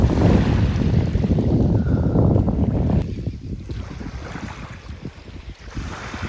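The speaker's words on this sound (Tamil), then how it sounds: "இன்றைக்கி வந்து பார்த்திங்கன்னா அலை வந்து கம்மியாக தான் இருக்குது" Sea waves wash ashore at Darsait beach in Muscat, a steady broadband surf roar with heavy wind buffeting on the microphone, loud in the first half and easing slightly after, with no voices.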